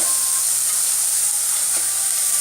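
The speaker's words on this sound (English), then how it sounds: "Let the onion cook for 1 to 2 minutes" Onion frying in a pan with salt and turmeric powder for a stuffed aloo paratha filling gives off a steady, even sizzle. The hiss runs close and continuous with no pauses.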